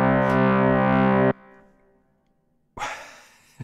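Yamaha YC stage keyboard playing its FM organ 5 voice on middle C with pre-drive down and rotary off, a loud buzzy sustained note cut off abruptly after about a second, leaving a fading tail before a brief noisy clatter.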